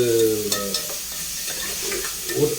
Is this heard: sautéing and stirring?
yes